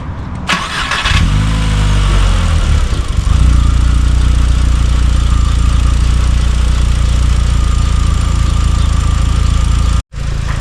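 A 2004 VW Jetta 1.8T engine, just fitted with a new oxygen sensor, cranks briefly, catches, and settles into a loud, steady idle that runs to the end.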